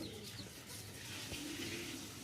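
A soft, low pigeon cooing in a quiet space, faint and close, with a light watery background hiss.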